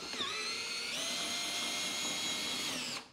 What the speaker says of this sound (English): I can get a drill in there and mix it up.